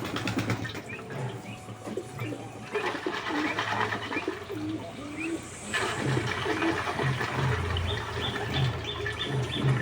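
Pigeons coo at close range in low, repeated pulses while water runs and splashes steadily nearby, with some clatter in the background.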